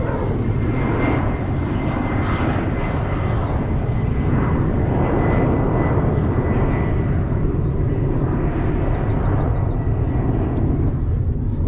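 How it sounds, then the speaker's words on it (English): A large passenger jet climbing out of Edinburgh Airport, its engine roar a broad, steady rumble that holds loud and continuous throughout, with faint birdsong chirping above it. "The bigger planes leaving Edinburgh Airport."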